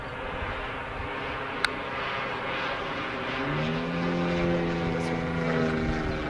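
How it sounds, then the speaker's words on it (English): A radio-controlled tow plane at a model glider aerotow event flies overhead. Its propeller engine drones faintly and steadily, growing a little louder in the second half as it passes, with a brief click partway through. "There's a tow plane coming down."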